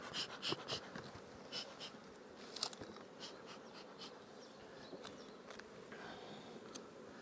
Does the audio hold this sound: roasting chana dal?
no